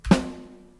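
A single snare drum sample hit in the middle of the snare, with a sharp attack and a tonal ring that decays smoothly over less than a second, heard alone.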